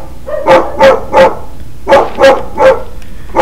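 A dog barks in the Silent Hill video game, a harsh run of seven evenly spaced barks in two bursts of three and four, loud and close, with no talking.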